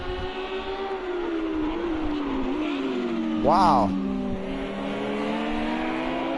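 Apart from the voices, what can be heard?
Lamborghini Super Trofeo race cars racing at Long Beach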